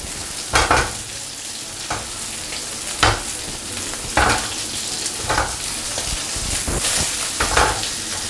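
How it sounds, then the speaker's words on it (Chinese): Continuous hiss of starch-dusted shrimp frying in a little oil in a hot wok on low heat, with periodic clacks and scrapes of a spatula every second or so, close up and without speech. "慢慢给它煎一煎，这样的话你的虾会比较香一些。"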